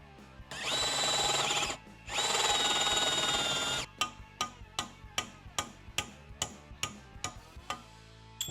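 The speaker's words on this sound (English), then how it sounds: "drill a hole this size." A power drill bores a hole in a crash bar for a Baja Designs S1 off-road light install on a 2024 Harley-Davidson. It gives two sustained high whines, then a dozen short, evenly spaced pulses as it cuts.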